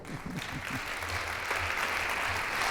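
An audience applauds Mario Vargas Llosa at a literary talk in Madrid, steady dense clapping from a large crowd after a brief spoken voice at the start.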